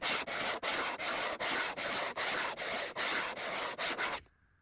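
Rhythmic back-and-forth scrubbing as the sole of a 130-year-old Stanley #8 jointer plane is ground flat on sandpaper, steady strokes with a brief gap between each, heard close and alone before stopping.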